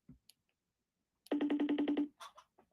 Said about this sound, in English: Let me see if I can call her back real fast to see if she's okay